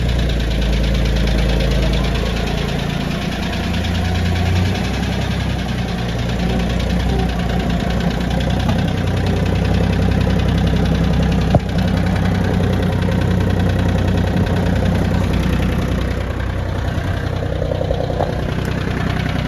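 Diesel engine of an Iseki TA 235 tractor running steadily at idle, a close, loud knocking chug with constant vibration and no talk.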